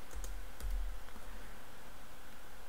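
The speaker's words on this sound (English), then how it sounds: "All you need to do is type the following code" A computer keyboard typing a command in the Windows 11 setup command prompt, a few brief faint key clicks near the start over a steady low background hum, with no talk.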